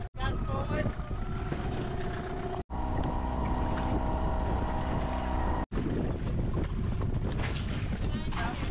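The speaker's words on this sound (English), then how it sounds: "You want us to motor forwards on the chain as well" A sailing boat motors slowly forward on its anchor chain, its engine and hull noise a steady loud drone mixed with wind buffeting the microphone, while people talk over it.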